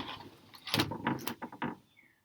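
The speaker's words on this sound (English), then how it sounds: "Could you close the door, sweetheart?" A door in a home closes with a series of close knocks and clunks, several sharp impacts in quick succession before falling quiet.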